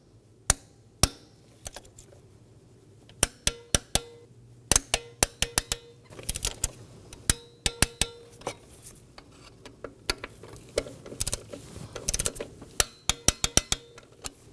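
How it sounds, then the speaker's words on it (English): Sharp ratcheting clicks and metallic taps from a torque wrench with a 5mm Allen bit tightening ignition coil bolts on a 2015-2023 Nissan Maxima, coming in close, irregular bursts with brief pauses between. "Now I'm going to torque these down to 74 inch-pounds using my 5mm Allen bit."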